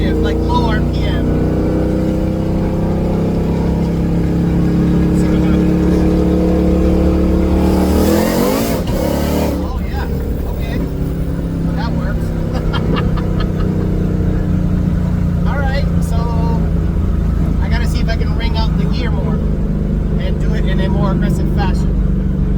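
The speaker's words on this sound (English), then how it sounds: "I'll do a quick shift, like low RPM." Coyote V8 engine in a T56-swapped GT500, droning steadily and loud through a quick low-RPM gear shift, with a brief break in the tone midway as the shift happens; someone talks over it throughout.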